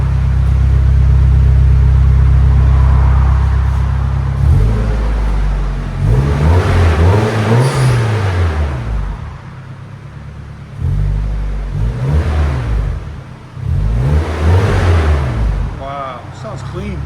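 A 1994 Nissan 240SX 2.4L fitted with an HKS Sport cat-back exhaust idles loudly and close, then gets three or four sharp revs that rise and fall before dropping back, with brief talk between the blips.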